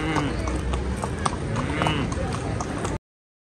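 A horse's hooves clip-clop steadily on ground in an outdoor square, a continuous rhythmic clatter heard under people talking and noisy surroundings.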